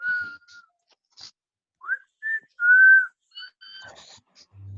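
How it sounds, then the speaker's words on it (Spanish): A person whistles several short melodic notes, some sliding, in a quiet classroom, with gaps of silence between the phrases. "¿Quién está silbando?"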